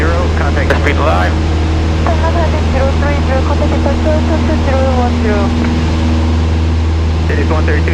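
Cessna 172 piston engine at full takeoff power heard from inside the cockpit, a loud steady drone with a constant propeller hum. Speech on the headset runs over it throughout.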